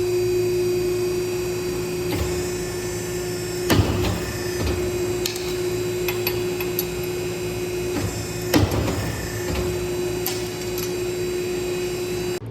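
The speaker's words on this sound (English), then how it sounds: "Come over here and get this hole punched real quick." Steel punch driving a hole through sheet metal for a Jeep battery box in a shop, heard as two sharp, brief clunks several seconds apart over a steady, loud machine hum.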